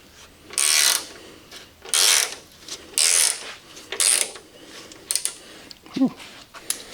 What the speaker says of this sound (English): Well, we'll do that with a ratchet.